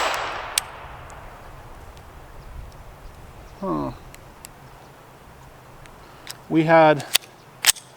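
An FN 502 Tactical .22LR pistol fires at a steel plate outdoors: a few sharp, spaced cracks, some with a ringing clang, plus a brief voice and a burst of nearby talk.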